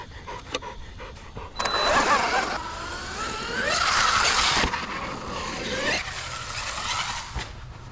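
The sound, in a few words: giant RC rock racer car jumping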